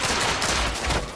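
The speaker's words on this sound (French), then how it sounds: "c'est quoi ce pistolet qui tire deux coups?" Twin shots from a double-barrelled pistol in The Order 1886, part of a dense burst of video game gunfire, loud and close over a short stretch.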